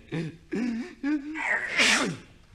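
A sung melodic line that builds into a loud, breathy sneeze sung in rhythm, followed by a descending vocal slide; a voice imitates the sneeze.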